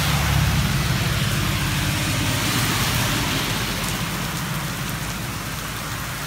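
Heavy rain pours down in Big Bear Lake, California, a dense continuous hiss of drops drumming on surfaces with a low engine rumble underneath, loud and unbroken, with no talking.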